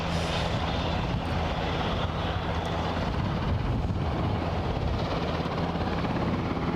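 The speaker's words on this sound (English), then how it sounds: "I can hear the Bristow's helicopter being handed over" Bristow helicopter at Aberdeen airport, a steady, loud broadband rotor and engine roar with a low throbbing hum, continuous throughout with no voices.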